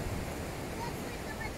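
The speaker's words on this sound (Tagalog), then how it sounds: "Grabe naman yung alon na yan." Strong ocean surf churns on the shore at Tenerife, Spain, a dense, continuous roar of breaking water mixed with wind buffeting the microphone.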